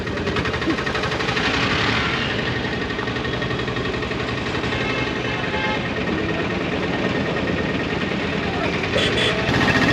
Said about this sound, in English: the tuk-tuk ride of India